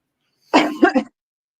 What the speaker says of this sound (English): I just coughed down the mic.